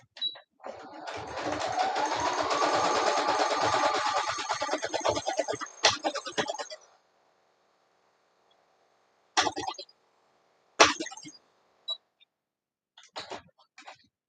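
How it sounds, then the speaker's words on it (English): A sewing machine runs a long straight stitch along a fabric edge, a fast rapid chatter held for about seven seconds, then goes quiet apart from a few short clicks and handling knocks. "I'm just going to do a straight stitch all the way down this edge"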